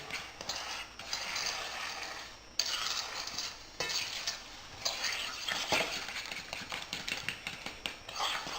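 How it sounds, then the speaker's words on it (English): Sugar being stirred into banana and berry yogurt bread batter in a bowl, giving a continuous rhythmic scraping and clicking of a utensil against the bowl that runs without pause throughout. "Alrighty, we'll blend that in really well"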